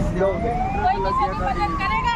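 A fire engine siren wails with a rising, wavering tone as the engine arrives at a road accident scene, fairly loud over traffic noise as voices talk nearby.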